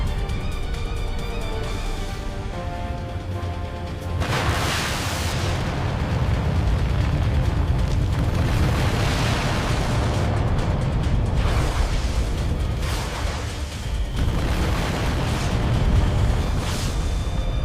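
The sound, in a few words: missile explosion sound effect hitting a wooden warship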